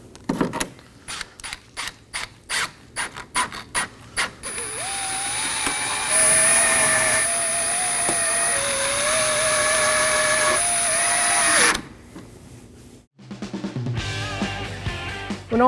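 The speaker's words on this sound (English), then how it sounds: "finish installing our 6 T15 Torx screws that hold the grill down" Power driver running T15 Torx screws into a car grille in an engine bay, with several short bursts, then a long sustained whirring run, followed by more short bursts.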